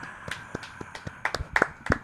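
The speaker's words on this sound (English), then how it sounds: "can you put an applause break right here?" A few hands clap in an uneven, sparse rhythm on a podcast, each clap close and sharp, growing slightly louder and quicker toward the end.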